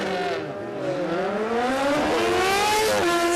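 A drag racing car revs hard at Warwick Dragway, its engine pitch climbing steadily through the gears, loud and close.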